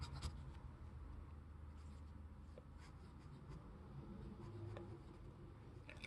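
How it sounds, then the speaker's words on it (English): A Schneider fountain pen with a very scratchy medium nib scrapes across paper in short, faint strokes, close up and quiet, with a low background hum. "This is probably the scratchiest medium nib I've ever seen in my entire life."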